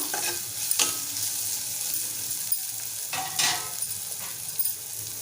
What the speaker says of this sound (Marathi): आपण आता झाकण उघडूया एकदा परतवून घेऊया